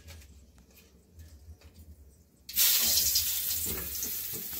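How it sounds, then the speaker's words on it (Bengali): Sugar dropped into hot oil in a home kitchen pan sets off a sudden loud, broad sizzle after a quiet start, holding steady and bright for a couple of seconds. "চিনি দিয়ে দিলাম গরম তেলে।"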